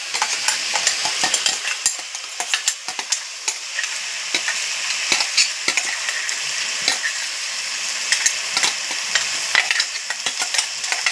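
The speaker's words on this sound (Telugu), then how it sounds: "నేను ఇందాక టమోటా, కొత్తిమీర, పుదీనా మిక్సీకి వేసుకున్నాను కదండి, అది వేస్తున్నాను ఇప్పుడు." Blended tomato, coriander and mint paste goes into a hot pan for a chicken and bean dish, bursting into loud crackling sizzle with scattered stirring scrapes, close up and without talk.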